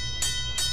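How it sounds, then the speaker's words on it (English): Two short bright bell strikes ring out as a blast warning signal in the Deponia adventure game, evenly spaced over a steady low background hum. "Ring the bell."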